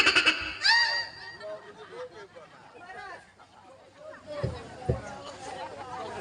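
A man at a Maithili folk dance performance mimics a goat's bleat with a voiced, wavering cry, followed by chatter and crowd babble around him.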